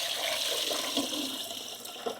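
Water poured into a pan while cooking egg roast, a steady close splashing pour that runs through the clip without talk.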